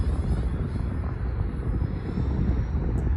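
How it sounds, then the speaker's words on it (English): RC Cessna Carbon Z 150 model airplane flying in high wind, a steady broadband roar of wind buffeting and motor drone running continuously and loud with no talk. "I'm flying the Cessna Carbon Z 150"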